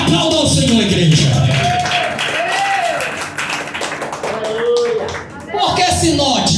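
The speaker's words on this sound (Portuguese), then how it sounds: "Aplauda o Senhor, igreja." A church congregation claps during a service, a steady patter of hands beneath a loud voice speaking and singing over it.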